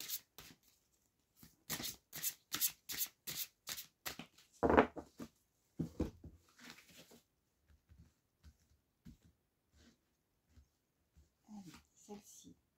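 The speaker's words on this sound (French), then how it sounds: "je vais déjà prendre une première carte avec celui-ci" Tarot cards are shuffled in quick rapid riffles, then handled more sparsely as a card is drawn, close and fairly faint, with occasional breaths and small movements.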